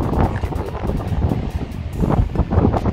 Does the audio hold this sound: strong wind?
yes